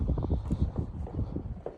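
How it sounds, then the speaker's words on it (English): Gusty outdoor wind buffets the microphone with a steady low rumble and uneven thumps on a windy off-grid patio, loud and close, with no talking. "See how windy it is?"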